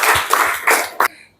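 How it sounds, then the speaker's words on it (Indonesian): Children in a classroom clap their hands together in a short, dense burst of several loud, close claps that ends abruptly, followed by quiet. "kita tepuk tangan dulu untuk semangatnya."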